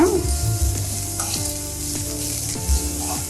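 Grated carrot frying in oil in a pan, a steady close sizzle with occasional stirring scrapes and clinks, and no voices.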